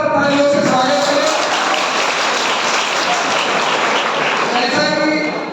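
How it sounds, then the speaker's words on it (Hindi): An audience at a college lecture on the new education policy claps loudly to welcome a speaker, a thick, even roar of many hands that holds steady for several seconds before tapering at the end. "एक बार जोरदार तालियों से स्वागत करें।"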